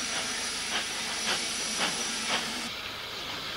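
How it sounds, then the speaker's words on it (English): Steam locomotive on a through train departing Hooton on the Wirral, a steady loud hiss of steam with four evenly spaced chuffs before the sound thins out. "Steaming away from Hooton on a through train to Woodside."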